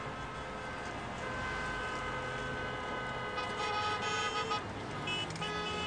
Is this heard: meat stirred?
no